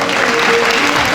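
A studio audience at a singing competition claps loudly and steadily for singer Deepak Chauhan, a dense burst of close, sustained applause.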